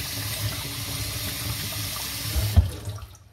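Water runs steadily from a leaking kitchen tap, a continuous close splashing stream that swells briefly near the end before fading out.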